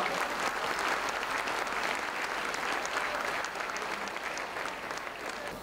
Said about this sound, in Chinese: 让我们以热烈的掌声呢来感谢我们两位老师